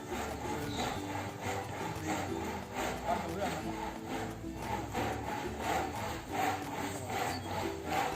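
Rhythmic rasping strokes of a saw cutting through wood, repeated steadily at moderate volume with faint background noise.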